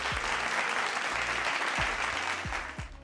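An audience at a spiritual discourse on the Dnyaneshwari breaks into sustained, dense applause, a steady roar of many hands clapping close by that tapers slightly at the end.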